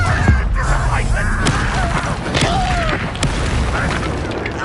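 Confringo explosion spell cast in the Hogwarts Legacy video game on PS5, a dense, loud booming blast over a continuous roar of game effects.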